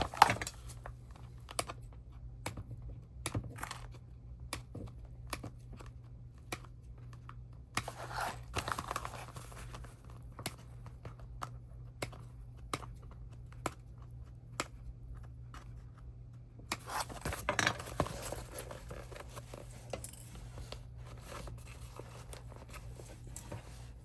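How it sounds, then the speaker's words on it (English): Scissors snip around curves in fabric, giving a long run of crisp, close clicks at an uneven pace with brief pauses and no talking. "we're going to snip these curves"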